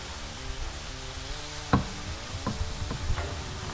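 A utensil scrapes the bottom of a pot of venison chili with beer added, giving a few short, sharp scrapes over a soft simmering sizzle.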